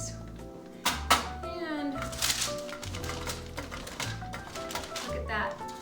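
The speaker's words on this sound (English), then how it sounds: "So we're going to cut this cold cheese." Cold cheese rubbed against a metal grater in a kitchen: rough, rhythmic scraping strokes come in bursts, mixed with clatter and handling noise while people talk over it.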